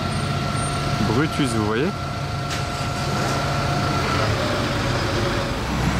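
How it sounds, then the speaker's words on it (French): Buses passing along a street in Monaco, a steady engine rumble and hiss throughout with a brief air-brake squeal, someone talking over it in the middle. "Oh, le bruit qui fait les bus là."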